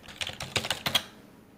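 A web address is typed on a computer keyboard as a quick run of crisp key clicks lasting about a second. The clicks are close and moderately loud, then they stop and only quiet room tone remains.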